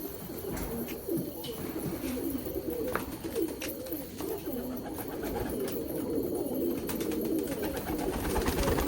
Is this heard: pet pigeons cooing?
yes